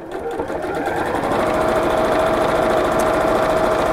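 A sewing machine runs steadily, stitching straight along a seam line with a continuous close whirring drone that holds throughout.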